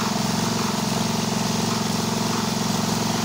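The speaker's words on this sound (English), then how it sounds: "Now you can see the engine is working." A small engine drives a water pump draining an earthen pond, running close and loud with a steady, rapid mechanical throb and no talk over it.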